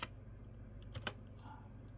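A few quick computer keyboard keystrokes, typing a ChatGPT query, as sparse clicks with a sharper tap near the middle over low room hum.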